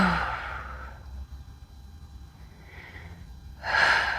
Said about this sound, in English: Let's just take a few breaths here.